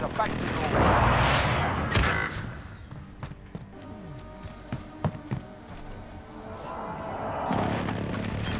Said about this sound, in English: Be advised, friendly precision airstrike.